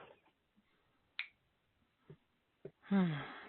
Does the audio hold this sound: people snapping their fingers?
yes